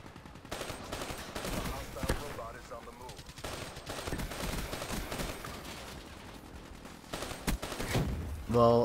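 Sustained automatic fire from the CUDA gun in Call of Duty Black Ops 3, steady rattling bursts through most of the stretch with brief pauses and a final louder volley at the end.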